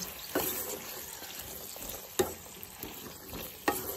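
Green peas and flat beans frying together in a pan make a faint, low sizzle. Three sharper scrapes or clinks of stirring stand out, with no one speaking.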